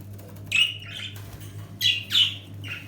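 Budgerigars being bred at home give a few sharp, close squawks and chirps in short bursts separated by brief pauses, over a faint steady hum.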